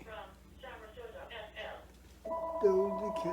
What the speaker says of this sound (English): I don't know who this phone keep ringing.